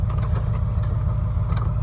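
A tractor works nearby, pushing piles of sugar beet pulp with a steady low engine rumble at moderate idle and faint mechanical clatter above it, loud and continuous.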